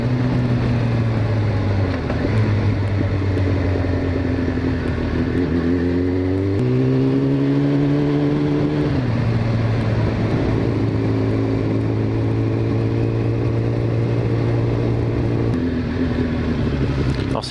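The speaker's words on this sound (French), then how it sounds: "par rapport à la mienne, le son du 4 cylindres, c'est autre chose" Four-cylinder motorcycle engine running at a somewhat high idle, a steady droning hum with shifting harmonic tones as the revs rise and fall slightly, close by and continuous throughout.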